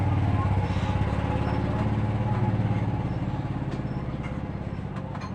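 A blender motor runs steadily on the workbench during a repair test after its micro switch is pressed, a continuous close buzzing whir with a voice talking over it.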